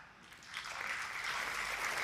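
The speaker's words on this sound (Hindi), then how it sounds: "आज तो आपने ताली बजाई" Audience applause at a Kumar Vishwas talk: a dense, steady wash of clapping that swells after about half a second and holds evenly to the end, with no voices on top.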